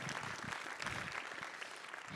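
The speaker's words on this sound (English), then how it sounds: "Can we get that huge round of applause for everyone that participated in our community" A crowd applauds community open mic performers at a finale show, a steady wash of clapping that stays dense and even throughout, fairly faint and distant.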